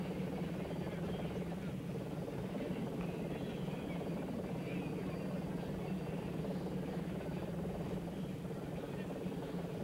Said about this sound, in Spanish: Y vemos en esta imagen aérea al helicóptero